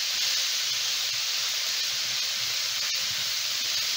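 Collard greens cooking down in a pan give off a steady, close hiss and sizzle that holds evenly from start to finish, with no voices.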